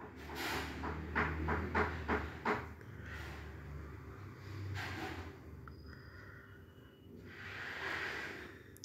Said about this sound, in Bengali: শুকনো লঙ্কাটা একটু ভেজে নিচ্ছি।